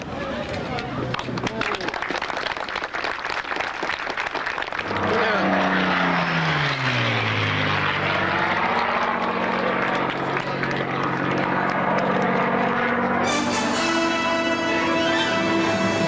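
A Miles Magister propeller aircraft flies past, its engine drone rising and falling with a Doppler-like sweep, loud and continuous, with brief crowd or ambient noise at the start.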